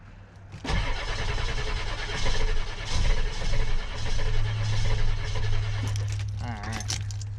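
A Ford 7.3 diesel pickup engine, glow plugs already cycled, cranks after a brief key jangle and then runs with a loud, rough, close rumble that surges and settles, with faint chirps near the end.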